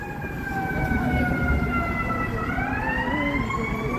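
An ambulance siren wails steadily on a Chicago street, its rising and falling tones loud and close over constant low traffic rumble.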